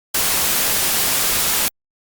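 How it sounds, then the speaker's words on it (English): Straight white noise plays in a music production mix, a loud steady broadband hiss that starts abruptly, holds evenly for about a second and a half, then cuts off into silence. "there's just gonna be straight up white noise playing the whole time"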